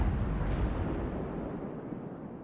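An enemy destroyer blows up in the naval battle game World of Warships, a loud, broad roaring blast that slowly fades away with no voices.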